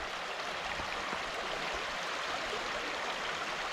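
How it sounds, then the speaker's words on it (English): Mountain Creek in Pine Grove Furnace State Park flows with a steady, broadband rush of water, close and even throughout with no talking. "this is Mountain Creek, it's called"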